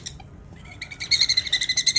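Pet birds chirp close by in a quick run of rapid, bright tweets that grow louder toward the end, with no talking.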